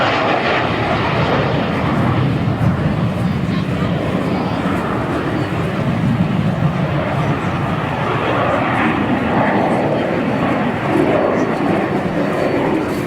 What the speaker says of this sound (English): not to distract from the Meteor, this beautiful old aircraft